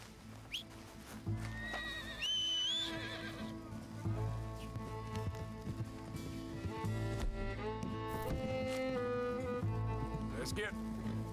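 A horse in the video game Red Dead Redemption 2 gives a rising whinny early on. Game music and a voice continue underneath, with hoof clops and ambient sound carrying on through the rest of the clip.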